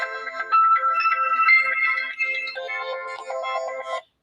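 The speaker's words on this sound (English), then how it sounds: "I'm getting a phone call." A phone rings with an incoming call, a loud, close melodic ringtone playing a looping tune of bright electronic notes that stops abruptly after about four seconds, with no talking.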